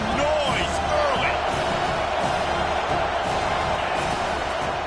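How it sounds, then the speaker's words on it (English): Dense roar of a large football stadium crowd at an NCAA game, constant and loud with no breaks, with a commentator's voice faintly riding over it. "This crowd bringing the energy and noise early"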